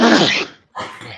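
A single sharp sneeze bursts out close by, followed after a short pause by a softer breathy exhale.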